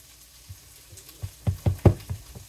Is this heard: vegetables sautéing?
yes